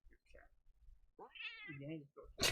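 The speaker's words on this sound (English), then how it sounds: "I love when you pick up the cat and she's just like angry." A cat in The Last of Us Part II gives a short, grumpy meow when it is picked up. It comes as one close, drawn-out complaint between faint background sounds, with a sharp noise at the very end.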